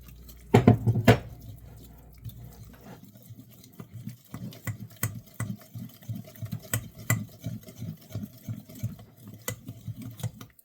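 A spoon stirs sourdough pancake batter in a bowl, producing soft irregular wet clicks and slaps, close and fairly quiet, after a couple of louder knocks at the start.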